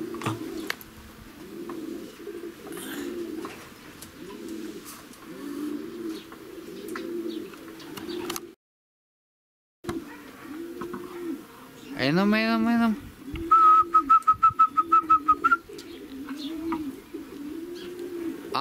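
Racing pigeons coo repeatedly at the loft in a steady rhythmic pattern, close and moderately loud, with someone speaking over them, a brief dropout midway, and a sharp whistling sweep and rapid clicking beeps near the end.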